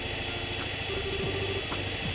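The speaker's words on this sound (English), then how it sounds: "Jeez, this thing sure makes a racket. It's definitely a lot louder than orbital engines." A loud engine switched on in the video game Trails in the Sky, a steady droning rumble with faint mechanical tones, continuous and close, without speech.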